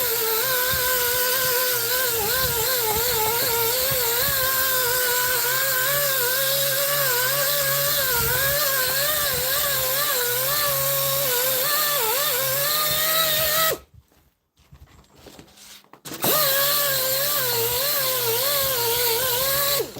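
Power polisher working on a scratched polycarbonate visor of a Honeywell Turbovisor air respirator, a loud steady whine with wavering pitch that cuts out briefly near the end, then resumes.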